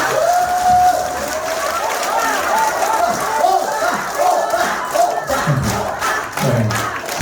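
A crowd at a singing class event cheers and claps after a comic folk-song routine, a loud mix of shouts, laughter and scattered applause, with voices calling out over it.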